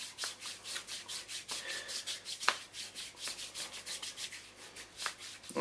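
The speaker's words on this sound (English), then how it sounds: "I'll get the friction going just from rubbing it like this" Hands rub massage oil into skin for a gua sha treatment, producing close, quiet rhythmic swishing strokes in a steady back-and-forth pattern, with no talking.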